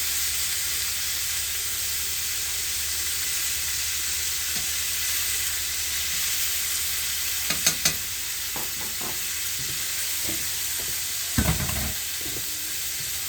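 Vegetables sizzle steadily in a hot pan for a Philly steak, a constant frying hiss broken by a few brief clanks and stirring scrapes near the middle and end.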